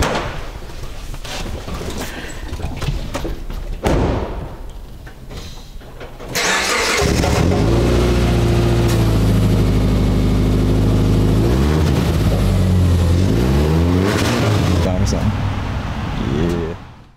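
A car, called a war chariot, cranks over and fires up, then settles into a loud, close, rough idle that rises and dips briefly, after earlier talk and quieter background noise.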